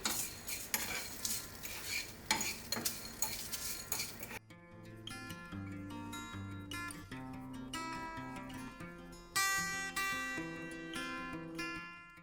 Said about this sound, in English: Now I'm dry roasting all the whole spices